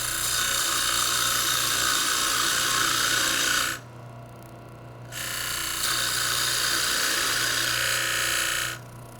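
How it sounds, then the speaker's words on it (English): A wood lathe turns a Christmas ornament as a parting tool cuts a tenon about 1 inch across, giving a loud, steady scraping whir that drops away briefly midway and then resumes before cutting off near the end. "Now I'll switch to a parting tool, create a tenon about 1 inch in diameter here."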